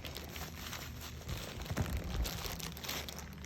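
Small plastic bag holding a Nepenthes pitcher plant being handled during an unboxing, crinkling and rustling softly and close up in brief irregular bursts.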